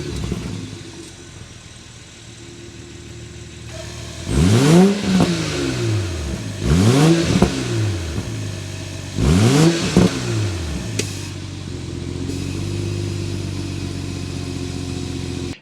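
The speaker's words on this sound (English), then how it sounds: "Start it up so we can hear that exhaust note." A 2022 BMW 740i with an inline-six twin-turbo engine starts and idles, then rises in three sharp revs whose exhaust note sweeps up and falls back, close and loud, before settling into a steady idle.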